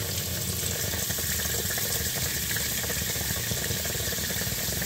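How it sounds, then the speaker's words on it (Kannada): Water pours steadily into a milk cooker, a continuous broadband splash and rush with a faint rattle, close and fairly loud, with no talking. "ನೀರು ಇದ್ರಲ್ಲಿ ಹಾಕಬೇಕು."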